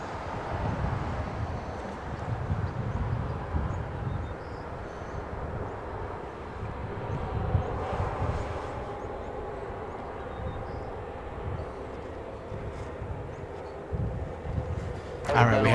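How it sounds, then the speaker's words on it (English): An Air Tahiti Nui Boeing 787 Dreamliner pushes back at Los Angeles International Airport, a distant, steady low engine rumble mixed with wind buffeting the microphone, swelling slightly near the end. "the one pushing back is an Air Tahiti Nui"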